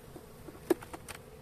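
Honeybees buzz faintly at a crowded hive in Trabzon in January, a low steady hum with a few soft clicks and taps near the middle.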